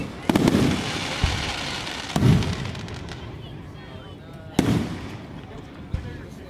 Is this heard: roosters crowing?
no